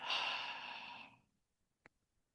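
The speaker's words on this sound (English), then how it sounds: "one big breath in, one small one at the top, and then one slow exhale through the mouth" A deep inhale through the nose followed by a slow, steady exhale through the mouth, a single drawn-out breath lasting about a second, close and fairly loud, then near silence with one brief faint click.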